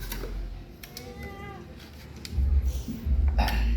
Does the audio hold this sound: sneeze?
no